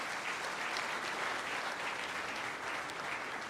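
Steady, dense applause from a large audience at the opening ceremony of a heads-of-state summit conference, heard alone at a fairly distant, even level.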